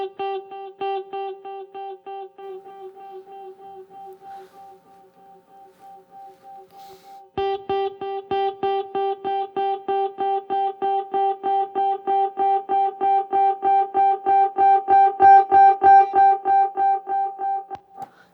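A single guitar note runs through a Fender Hammertone Space Delay on its slowest time setting. Long, evenly spaced repeats pile up and swell into a loud, sustained self-oscillating drone that keeps pulsing for many seconds.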